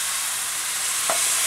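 Stir-fried long beans, shrimp and tempeh sizzle steadily in a pan, with a single brief scrape of the spatula as they are stirred.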